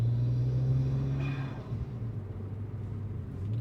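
BMW N54 twin-turbo engine fitted with a hose-modded diverter valve filter gives a low, steady rumbling drone with a faint rising whoosh of turbo spool near the middle, close and continuous.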